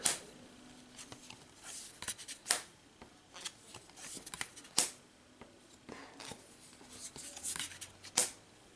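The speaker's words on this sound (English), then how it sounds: "So let me draw my hand." Marvel Champions playing cards are drawn and handled: a string of crisp card snaps and slides in irregular bursts, close and fairly quiet.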